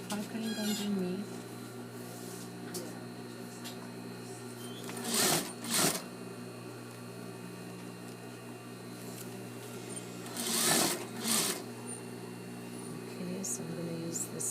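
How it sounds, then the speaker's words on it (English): A sewing machine stitches a collar onto the neck of a shirt-dress, a steady mechanical whir running throughout, broken by two short louder bursts of fabric handling. "So we're sewing the collar to the neck."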